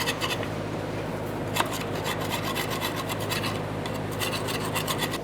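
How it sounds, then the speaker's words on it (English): Metal scraper rasping gasket residue off an exhaust flange on a 1992-1996 Toyota Camry, a continuous close, harsh scraping with repeated strokes and no pauses. "To clean this out of here, we're going to use a scraper."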